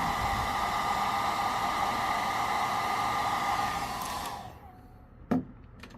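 A heat gun blows steadily for about four seconds while setting airbrushed paint on an X-Rap fishing lure, a loud even whooshing roar that cuts off, followed by a single knock.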